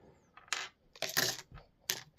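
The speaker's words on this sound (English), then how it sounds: "he will roll his grip of dice here" A handful of dice for the Heroscape board game rattling and clattering across a tabletop in several quick bursts, close and fairly loud, with no voices.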